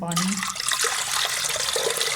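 Water is poured into a cooking pot to boil pasta for a red sauce dish, a steady rushing, splashing stream that runs the whole time, fairly close and loud.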